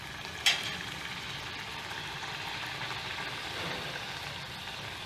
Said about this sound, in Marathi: आता ह्या पुऱ्या मी तळून घेते